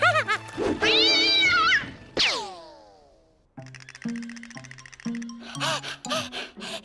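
A cartoon cat meows and caterwauls in several drawn-out, expressive, pitch-bending calls, loud and close, with a brief gap of quiet partway through.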